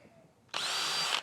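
A power drill runs in a single steady burst of about three-quarters of a second, loud and close, starting abruptly and cutting off just as sharply, with no talking.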